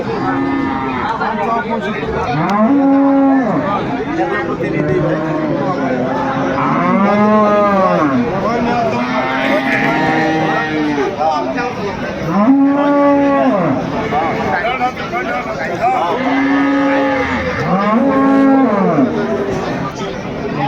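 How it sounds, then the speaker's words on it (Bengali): Several dairy cows and calves moo in long, repeated calls over a steady background of crowd chatter and voices at Aftabganj cattle market, Dinajpur, close and loud. "গাভী বাছুর আমরা দেখছিলাম এখানে"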